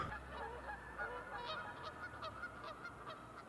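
Waterfowl honk repeatedly and faintly at a distance as they fly off, a series of short calls over outdoor background noise.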